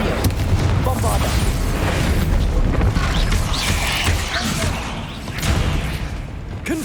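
Spell blasts from the Bombarda explosion in Hogwarts Legacy, set amid continuous dense combat noise with repeated booming impacts and crashing debris throughout, loud and busy with no pause.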